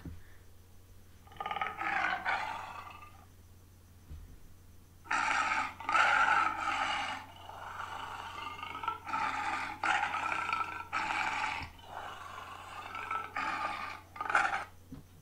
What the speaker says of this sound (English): Now let us hear the sound of the tiger growling.